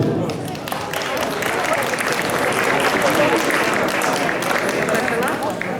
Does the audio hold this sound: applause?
yes